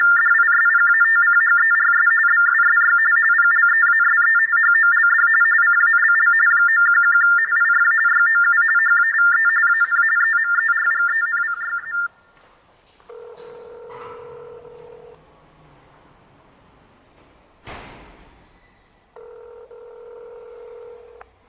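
San Francisco Police Department phone line: a long bright continuous tone, then a series of steady telephone beeps and tones with short silent gaps, clear and close with no talking.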